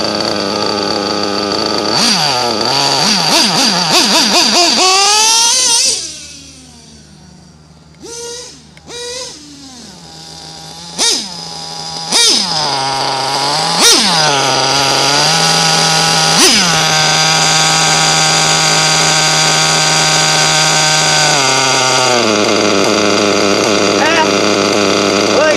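Nitro-fuelled engine revs loud and close with a buzzing whine, drops to a quieter idle punctuated by sharp throttle blips, then climbs back to a sustained high-pitched run, with brief speech mixed in.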